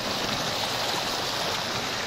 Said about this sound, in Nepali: यसरी चाहिँ यहाँ पानीको व्यवस्था छ, बोरिङबाट पानी लगाएर खेतमा पानी लगेर